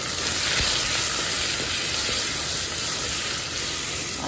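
Onion and salt frying with garlic in a pan: a steady, loud, dense sizzle hissing throughout, with faint stirring knocks underneath.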